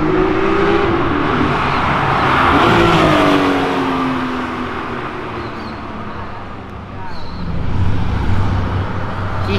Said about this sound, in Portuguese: Que reduzida linda, hein?